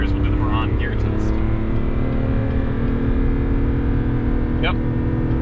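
A 2022 GMC Sierra 1500 AT4 diesel truck held in a low gear produces a loud, sustained engine roar at high revs, steady throughout with a few brief squeaks on top and no talk.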